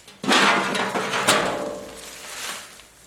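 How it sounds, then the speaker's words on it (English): A few sharp hand-hammer blows ring against sheet metal of a Willys CJ5 fender close by, followed by a rattling, fading clatter. "We'll start knocking that in by hand with a hammer"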